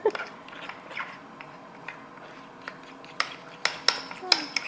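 A spoon stirs a gooey veggie burger mixture with milk in a bowl, giving scattered soft scrapes and a few sharper clinks of metal on the dish near the end, close and fairly quiet.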